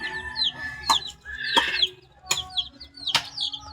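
A Texas gamecock clucks in short, sharp bursts, about four distinct calls spread over a few seconds, close by and fairly loud over faint background chatter.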